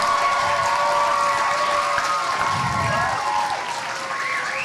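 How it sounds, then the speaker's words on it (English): Sustained applause from an audience at a summer camp program honouring its organiser, steady dense clapping with some crowd murmur and faint voices mixed in throughout. "I sincerely request you all to give a big round of applause to this wonderful woman who dedicated"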